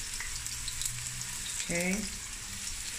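Chilies and chopped onion frying in a pan for a mussel akhni; a steady close sizzle runs throughout with a brief stirring scrape near the middle, and a voice speaks one short word.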